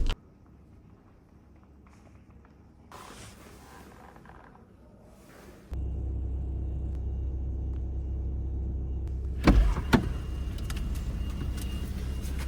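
A Volkswagen Golf 6 hatchback drives along, its engine and road noise a steady low rumble that rises in level midway, with a brief louder thump near the end and no talk.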